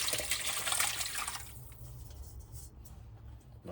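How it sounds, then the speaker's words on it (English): Cooking liquid from pork sauerbraten poured through a colander for gravy, a close splashing, trickling pour that fades into softer dripping, with no talk. "we are throwing this through a colander now"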